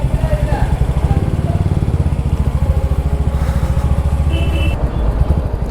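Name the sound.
Royal Enfield Hunter 350 motorcycle engine running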